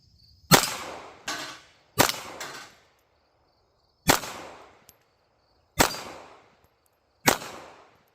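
Five sharp, loud handgun shots ring out outdoors at about 15 yards toward a steel plate, spaced a second or more apart, each a crisp crack with a short echoing tail and a faint metallic ping.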